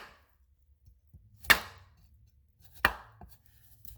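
Knife striking a cutting board while peeling kohlrabi, two sharp loud clacks about a second apart against a quiet background, with a few faint knocks between them.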